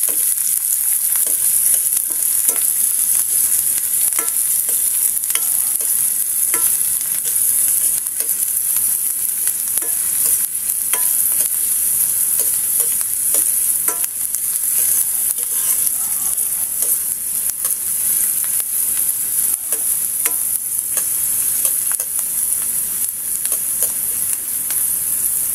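Sliced white onion fries in a hot pan for a Filipino fried adobo, with a loud, steady sizzle that runs throughout and stirring scrapes now and then, no voices.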